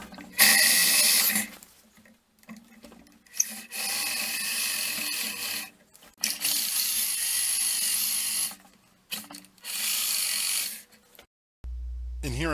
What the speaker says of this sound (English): here I am drilling the seat the same way with a slightly larger bit